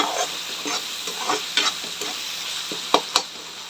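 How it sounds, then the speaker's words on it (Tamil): Soft sizzling of onion and tomato sautéing in a pan, with a spoon scraping and stirring in irregular strokes and occasional louder clinks. "இந்த வெங்காயம் தக்காளி நல்லா வதங்கணும்"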